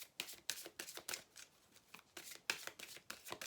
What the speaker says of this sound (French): on va prendre une carte conseil pour vous